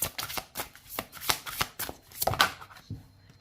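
Tarot cards being shuffled by hand before drawing an advice card, a brisk run of close papery riffles and slaps in an uneven rhythm, with no talking.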